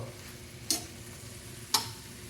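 Longganisa sausages fry in their own rendered fat, a soft continuous sizzle close by with two sharp spattering pops breaking through, no talking.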